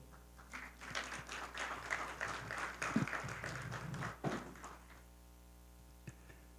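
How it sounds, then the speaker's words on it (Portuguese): Applause for a poet at an academic tea gathering, a few seconds of scattered, fairly faint hand clapping from a small audience in a room, tapering off into quiet with a stray clap at the end. "Palmas para o poeta"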